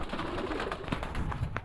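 Show pigeons, male and female birds on display, coo softly in a continuous low murmur with steady background noise and no talking.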